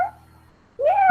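A person imitates a frightened cat with a short, loud, rising vocal meow-like wail after a brief quiet pause.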